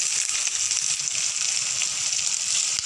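Chopped onion frying in a spoonful of hot oil in a kadai while making kadai paneer, giving a steady, close, even sizzle and crackle that stays loud and unbroken throughout with no talking.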